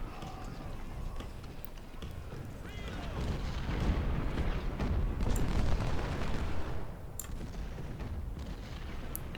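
Artillery fire on a Civil War battlefield in Ultimate General: Civil War, a rumbling barrage of booms and crackling gunfire swelling in the middle, distant-sounding and continuous, with faint talk in the background.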